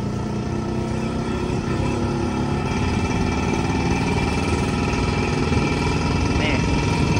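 Manual-gear Vespa scooter engine runs steadily throughout, a continuous mid-pitched buzz with shifting through the gears up to fourth, close to the listener and fairly loud, without talk over it.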